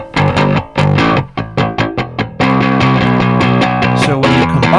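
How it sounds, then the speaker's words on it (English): Rickenbacker bass with its bridge pickup running into a guitar amp: a quick string of bright, distorted plucked notes, then a sustained ringing chord, loud and close with no speech. "the bridge pickup goes into a guitar amp, and that sounds like this."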